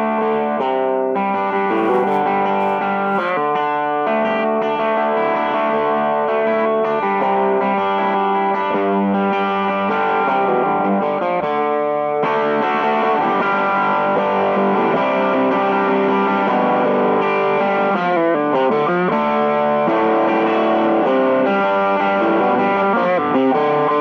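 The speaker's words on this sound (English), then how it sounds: "hear what this channel sounds like with the slightly overdriven sound and then me kicking in the boost switch so you get to hear it distort a little more" An overdriven guitar amp channel plays sustained, buzzing chords, and partway through a boost switch pushes the tone into heavier distortion. The playing is loud and continuous, with no talking.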